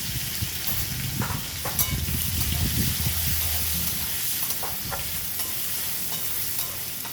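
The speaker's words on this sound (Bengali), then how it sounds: "হলুদ দেবো।" Small potato pieces frying with turmeric in a pan sizzle steadily while a spatula stirs and scrapes them in irregular strokes, close up and without any talking.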